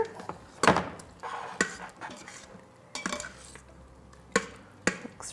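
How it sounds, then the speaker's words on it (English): Instant Pot lid lifted off and a spoon stirring chicken pot pie filling: a few sharp clanks and scrapes of metal against the pot, spaced irregularly amid soft wet stirring. "Take the lid off and give it a nice stir."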